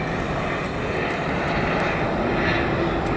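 A Challenger business jet passing near an airport runway, a loud, steady, broad roar that fills the whole moment without any break.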